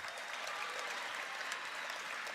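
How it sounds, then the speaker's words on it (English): A crowd claps at the 2021 Music Victoria Awards, an awards show, as an even, fairly quiet patter of applause held at a distance without a break. "Round of applause, please."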